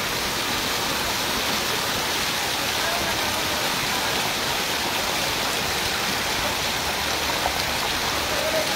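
Steady heavy rain pours down during a hailstorm in Dhamrai, Bangladesh, a dense continuous hiss that stays even and loud from start to finish with no distinct strikes standing out.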